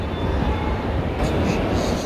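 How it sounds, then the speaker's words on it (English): A subway-like train in Spain gives a loud, steady low rumble and roar with a continuous rattle and no clear pauses, heard close from on board. "This train is like a subway."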